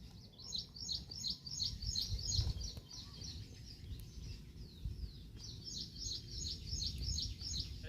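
Repeated bursts of high bird chirps and twitters from a bird at its nest, close by, in two clusters with a pause between, over a steady low rumble of background noise by a river.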